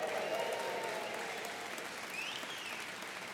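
An audience at the CNU 22 conference stands and applauds, a dense, sustained wash of clapping with some cheering that holds steady throughout.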